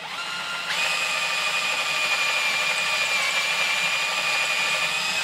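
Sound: drilling into deer antler

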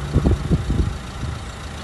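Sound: car engine idling

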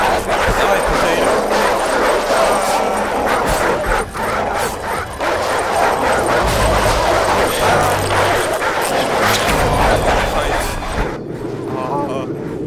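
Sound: dogs barking in Call of Duty 4 Modern Warfare video game

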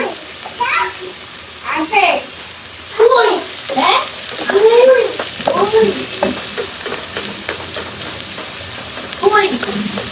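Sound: onion frying brown with fenugreek

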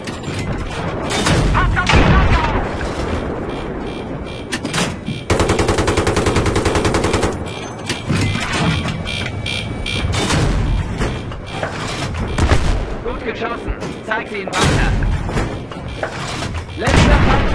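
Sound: gunfire and explosions in Battlefield 3 video game

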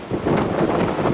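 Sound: typhoon wind outside in Naha, Okinawa

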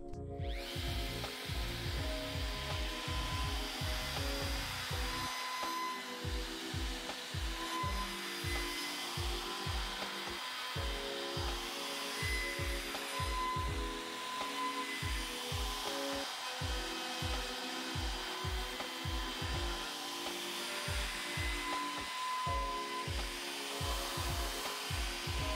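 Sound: router on SpeTool Cratos router sled flattening wood slab

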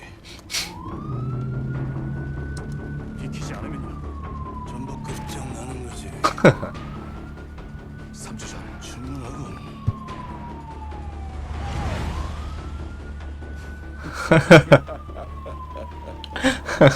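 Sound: police car siren in video game Call of Duty Modern Warfare

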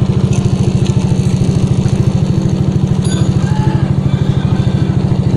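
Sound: Yamaha NMAX scooter engine running

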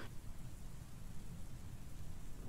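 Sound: rain sound effect playing on a livestream

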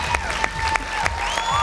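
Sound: audience applause

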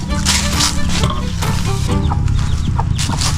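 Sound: chickens clucking, hen with chicks

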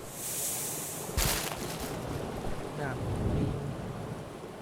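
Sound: waterfall flowing in video game Abiotic Factor

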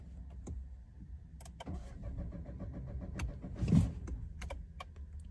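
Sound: Peugeot 2008 car engine starting attempt

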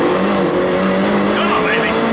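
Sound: car engine accelerating hard

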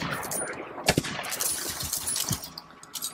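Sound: gunshots in video game Borderlands 3

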